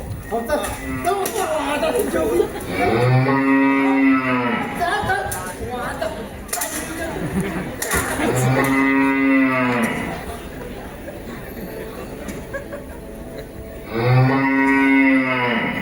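Three long, loud cow moos sound during a Marathi naman folk stage performance, spaced several seconds apart and probably voiced by a performer imitating the cow, amid lively chatter and background crowd noise.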